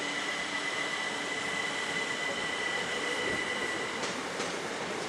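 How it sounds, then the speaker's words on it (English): A train pulls out of Ramsgate station bound for London Victoria, with a steady wash of rolling rail noise, a thin sustained whine and faint wheel clatter, heard from the platform at moderate distance. "now the late train to London Victoria by Gillingham and the Midway towns. It's just leaving Ramsgate station."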